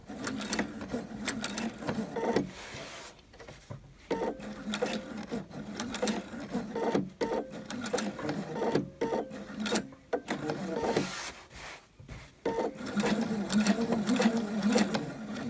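A sewing machine stitches a small square around a post closure. Quiet, rapid stitching comes in short bursts separated by brief pauses, with no talking.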